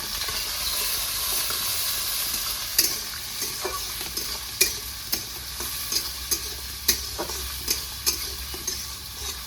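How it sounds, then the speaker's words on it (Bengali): Chopped onions fry in a pan for an egg masala curry under a constant hissing sizzle, while a spatula scrapes and taps against the pan in regular strokes about once a second. "পেঁয়াজটা একটু ভেজে নেবো"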